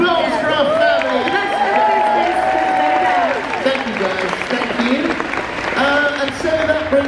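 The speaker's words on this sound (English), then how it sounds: "Round of applause for our family." Audience applause and cheering from a live TV event crowd at the NEC in Birmingham, steady and fairly loud throughout, with a voice talking over it.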